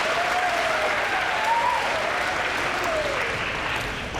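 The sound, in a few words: audience applause for introduced officers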